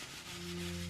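Steady, close abrasive rubbing of sandpaper over a dried layer of a lacquer painting, one continuous stroke with a faint tonal hum beneath it.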